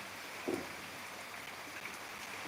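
A soft, steady hiss of light drizzle falls evenly outdoors in Velichala, with a faint patter and one brief thump early on.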